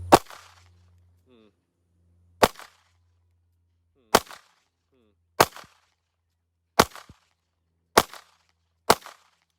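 A Springfield Hellcat pistol fired outdoors, six sharp, loud, snappy shots spaced about one and a half seconds apart, each ending in a short echo, with a faint low hum and brief clicks between the first two.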